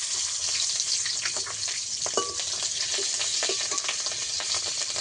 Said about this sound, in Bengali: ফোড়নে দেবো কালো জিরে, কাঁচা লঙ্কা